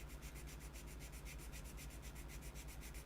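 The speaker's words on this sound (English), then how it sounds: "grab the 600 sanding block again, and we're going to just sand these flat." A 600 grit sanding block rubs back and forth in quick, even strokes, a steady rhythmic scratching that is faint and close, with no talking.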